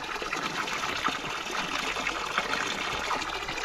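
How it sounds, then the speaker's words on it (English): Water trickles along a small stream found during a bicycle trip across Europe. The flow is a steady, close babble with faint splashing and no voices. "Finding streams like that is always a treat."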